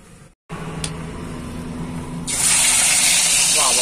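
Fish sizzling as it is dropped into hot oil in a pan for a truck driver's roadside fish curry, a loud broadband hiss that surges up and holds steady near the end.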